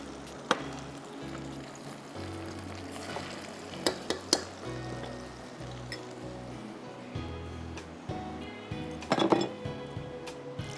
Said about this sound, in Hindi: आधा सेकंड मैरिनेशन लगा के डीप फ्राई कर रहे हैं